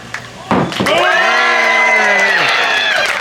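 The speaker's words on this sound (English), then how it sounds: "Boost my fragile juggler's ego and applaud wildly." Audience at a street juggling show bursting into loud cheering and wild applause, with a prominent sustained whoop and shouts over dense clapping that fades at the end.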